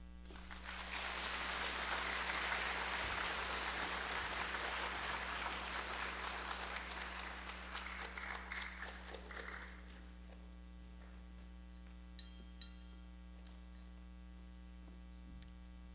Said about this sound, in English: How about one more big round of applause for all of our speakers?